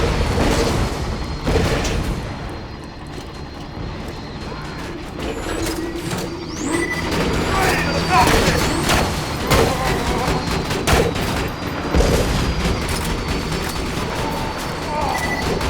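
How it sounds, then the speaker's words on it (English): Ragdoll breaking and exploding effects in a video game, a loud dense stream of crashes, cracks and mechanical clatter with booming hits and brief whines layered over one another. "I love those breaking noises, those exploding noises."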